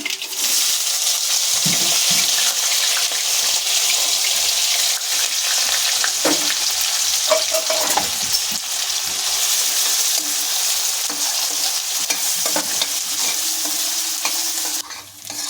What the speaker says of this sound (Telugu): ఉల్లిపాయలు వేగిపోయినాయండి బాగా వేగక్కర్లేదు